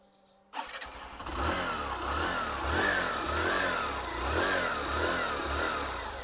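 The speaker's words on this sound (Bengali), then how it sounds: "এবার চলুন এই বাইকটার এক্সস্টের সাউন্ড একবার দেখে নিই" A Hero Super Splendor Xtec motorcycle engine fires up after a brief silence and settles into a steady, close exhaust note with gentle rises in revs, loud and alone with no talking.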